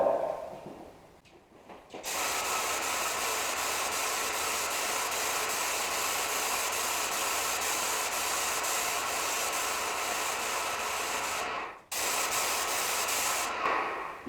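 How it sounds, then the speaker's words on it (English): A Wagner 3.21 ProSpray airless paint sprayer hisses loudly and continuously while spraying ceilings, one long steady burst with a brief cutoff near the end before resuming, close and alone without talk. "I'm just spraying these ceilings"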